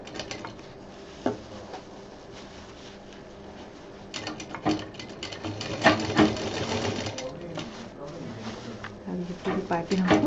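A sewing machine stitches piping onto a fabric fruit cover, running in bursts of rapid mechanical whirring and clatter up close, growing louder and busier toward the end, with a voice talking over it.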